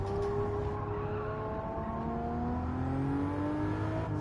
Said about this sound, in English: Also, it's a B58 BMW engine. It sounds pretty good.